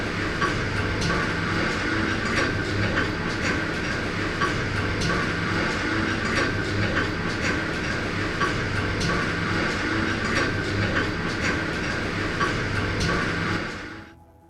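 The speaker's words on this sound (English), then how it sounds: "that was a very long train ride" Steady mechanical rumble of a train ride in the sci-fi survival video game Subterrain: Mines of Titan, continuous and fairly loud for about fourteen seconds before cutting off abruptly.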